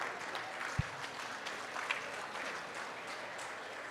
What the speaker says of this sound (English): Yes, you can clap at that, yes.